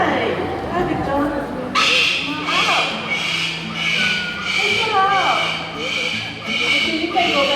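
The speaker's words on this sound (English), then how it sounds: "what we usually get as a pet parrot will be a bird just like Big John" A pet parrot calls during a bird show at Bird Paradise in Singapore, its squawks and chatter rising over steady crowd noise and nearby talking voices.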